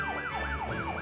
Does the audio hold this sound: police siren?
yes